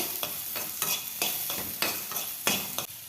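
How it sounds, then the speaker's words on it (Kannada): Onion and curry leaves fry in a pan for capsicum curry, with a steady sizzle broken by regular, fairly loud stirring strokes roughly every half second. "ಒಂದು ಸ್ವಲ್ಪ ಫ್ರೈ ಮಾಡ್ಕೊಳ್ಳೋಣ"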